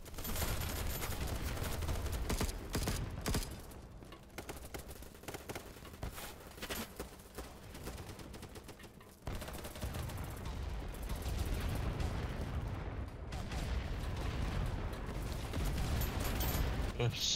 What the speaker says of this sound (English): So many grenades going out right now.